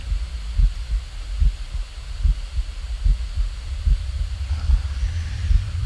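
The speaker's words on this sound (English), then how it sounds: "You can hear the heartbeat." A slow, steady heartbeat thumps in low, muffled double pulses, repeating evenly for several seconds over a faint background hum, with no voices.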